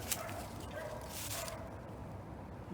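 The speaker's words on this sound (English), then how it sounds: "it sounds like some dogs over there barking at something" Dogs bark faintly in the distance at a campsite near railroad tracks, a few soft, scattered yaps over low outdoor background noise.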